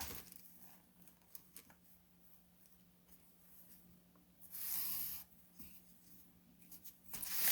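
A pencil drawing a line on pattern paper, with soft scratchy strokes and rustling paper close by, plus one louder scraping swipe near the end and no speech.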